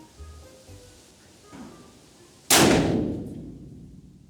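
A single sharp rifle shot, fired at a helmet, cracks out loudly, its report ringing and decaying over a second or two after a few faint background noises.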